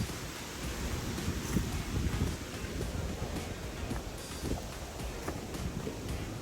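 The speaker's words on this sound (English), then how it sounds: "it's just a little bit breezy up here" Breezy wind buffets the microphone atop a mountain in Shenandoah, a steady rushing roar with gusty swells and no talk.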